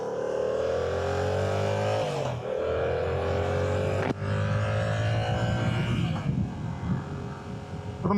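A 2025 Yamaha R7 700 cc motorcycle engine idles and revs, its exhaust note rising and dropping in pitch, close by and loud, with brief shifts in tone.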